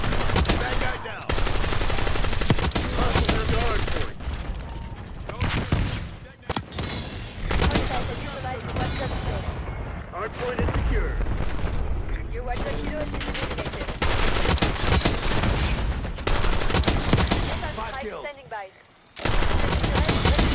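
Dense gunfire from Call of Duty Black Ops 6 in hardcore mode, with rapid automatic bursts and fusillades rattling almost continuously, broken by short gaps, while voices speak over the shooting.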